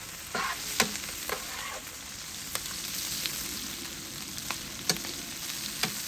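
Paella browns in a pan with a faint, steady frying hiss, broken by several sharp scrapes and taps of a utensil stirring against the pan.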